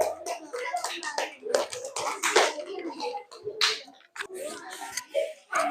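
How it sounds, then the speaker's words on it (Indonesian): Schoolchildren in a classroom clap for a presenting group, giving scattered, uneven hand claps in bursts rather than a steady roll, fairly faint, mixed with children's voices chattering around them. "Tepuk tangan untuk kelompok 2."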